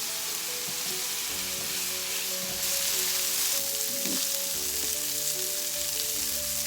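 Meat sizzles steadily in a cast iron pan already used for caramelized onions and peppers, a broad continuous hiss that swells slightly partway through, with no talking.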